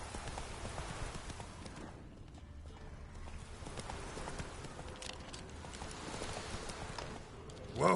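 Roach, a horse in The Witcher 3: Wild Hunt, trots along with a quiet, continuous clip-clop of hooves, faint and steady from start to finish.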